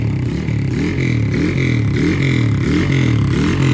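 1984 Honda ATC200X three-wheeler, a barn find with a sticking throttle, running nearby with a loud, rough, rapid single-cylinder putter that rises and falls in short revving surges and rattles throughout.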